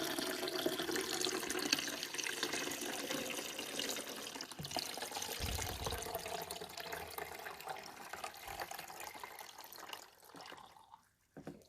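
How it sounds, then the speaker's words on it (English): Water is poured steadily into the top reservoir of a Cuisinart DCC-1200 12-cup coffee maker, a continuous close splashing trickle that tapers off near the end. "we're going to pour our water in"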